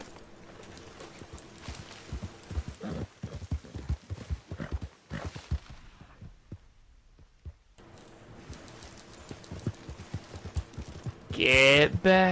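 Horse hooves clip-clopping in Red Dead Redemption 2, with uneven trotting beats, a quiet gap, then renewed hoofbeats and a loud neigh at the end; someone talks intermittently over the steps.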